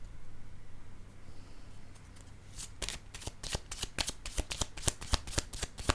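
Tarot cards being shuffled up close. It starts quietly, then a long run of rapid riffling snaps and flicks builds toward the end, with no talking.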